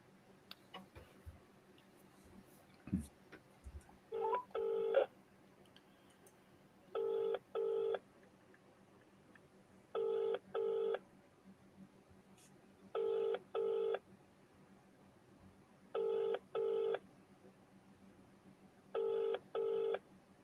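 A telephone call to a sheriff's office rings repeatedly, six evenly spaced double-burst rings heard clearly over a quiet line, with a few faint clicks and knocks before the ringing begins.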